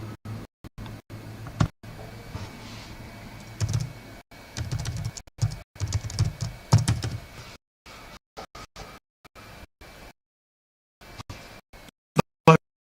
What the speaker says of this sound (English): if I was to type in